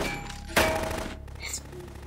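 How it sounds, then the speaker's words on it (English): A short burst of rapid gunfire erupts in the Metal Gear Solid 2 video game, a loud cluster of sharp shots that tails off into quieter game ambience. "there's gunfire behind this door"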